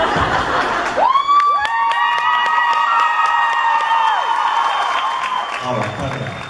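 Convention panel crowd at a 2014 fan event breaking into applause and cheering, with a brief burst of clapping followed by long, wavering high whistles and whoops over a sustained crowd roar.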